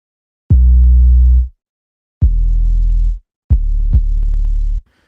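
Three long, deep sustained bass notes, loud and droning, separated by brief silences, with no other instruments.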